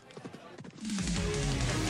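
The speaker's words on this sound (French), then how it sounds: "je vais appeler mon cheval" A video game horse arrives, its hooves clip-clopping in a quick rhythmic run that swells into a louder, steady rush.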